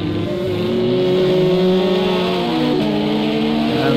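An LMP prototype race car engine in Project CARS 2 drones with a loud, sustained tone that bends up and down as the revs change through corners at Daytona, with no voices.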